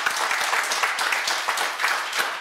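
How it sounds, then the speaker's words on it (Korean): Dense, loud applause from an audience for a section chief at a meeting about building an underground parking garage at a film park, continuous and evenly sustained throughout. "그래서 우리 그 남기루 과장님께 다시 한번 그 큰 박수 좀 부탁드리겠습니다."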